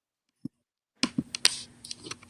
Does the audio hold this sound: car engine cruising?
no